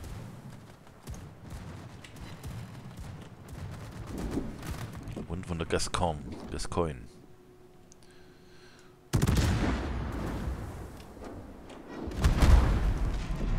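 Heavy naval gunfire in the video game World of Warships: a rumbling battle with a sudden loud salvo of booms late in the clip, as someone talks over the action.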